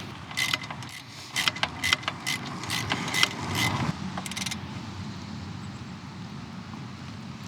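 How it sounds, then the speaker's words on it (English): Wrench work tightening a nut on a Classic 350 motorcycle: a burst of quick metallic ratchet clicks, close and sharp, in short runs, then fading to a quiet room hum. "Nut on the back. And I will tighten this one first."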